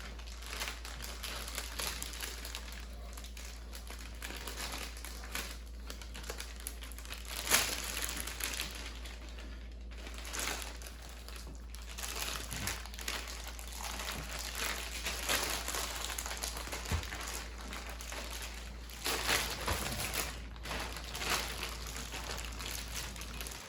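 A plastic dry aging bag crinkles and rustles in irregular bursts while a ribeye steak is slid inside, close and moderately loud with brief sharper crackles.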